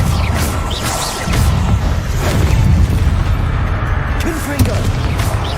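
Confringo blast spell explosions in Hogwarts Legacy: loud, rumbling booms and crashing impacts fill the scene, dense and continuous, with a voice casting spells over them.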